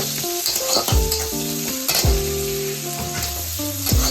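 Chopped onion fries in oil with a few cumin seeds in a pan for a fish-head curry, giving a steady close sizzle with occasional stirring knocks while melodic music plays over it.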